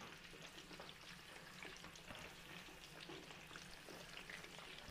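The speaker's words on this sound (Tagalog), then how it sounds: "Prito muna natin yung ating liempo para sa ating putsero." Pork liempo fries in a pan for putsero, giving a faint, steady spatter and sizzle with scattered pops, continuous throughout and heard from a distance.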